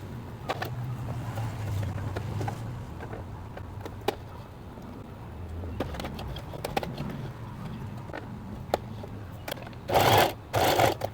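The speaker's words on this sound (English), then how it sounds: "and then sew here a few stitches again" A sewing machine stitches a dress in short, faint whirring bursts with pauses between them, ending in two louder runs near the end, and no voices.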